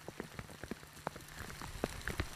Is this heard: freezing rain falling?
yes